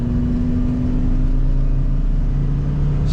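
A 1998 Dodge 3500 Laramie SLT quad cab 4x4 dually pickup idles loudly and steadily, a deep even rumble with a constant droning hum and no breaks.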